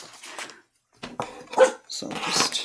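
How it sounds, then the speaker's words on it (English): A dog barks a few times in the background of an indoor room, sharp bursts separated by pauses, while someone speaks briefly nearby during a papercraft session. "Sorry if you can hear the dog barking."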